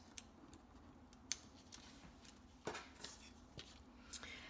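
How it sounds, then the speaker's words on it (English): Scissors snip through a piece of Garden Lane designer series paper in a quiet craft room, giving a few sparse, faint clicks and cuts spread over several seconds with no talking. "this piece I'm going to take and I'm going to cut out"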